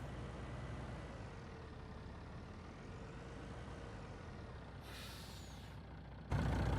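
A Kenworth T880 truck engine in a truck simulator mod starts and runs as a steady, loud low rumble, with a brief hiss partway through and a louder burst at the end.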